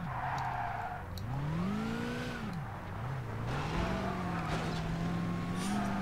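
Race car engine from the racing game DTM Race Driver 2, droning steadily and rising and falling in pitch through gear changes and corners, with faint tire squeal, loud and continuous throughout.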